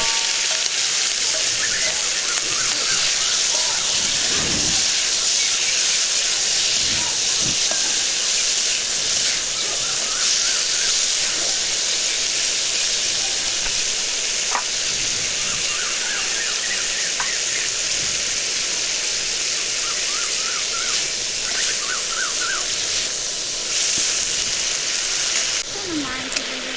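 Fish frying in oil, a loud, constant sizzling hiss throughout, with occasional high squeals and faint background voices.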